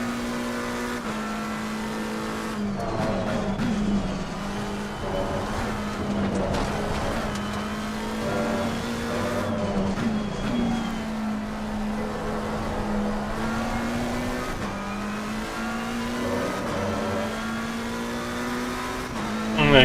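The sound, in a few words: race cars passing in a sim racing video game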